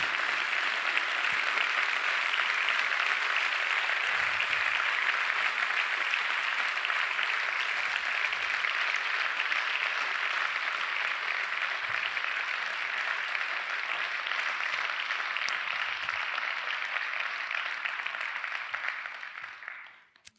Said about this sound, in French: Est-ce que je peux vous demander juste un tonnerre d'applaudissements pour mes amis qui sont là aujourd'hui?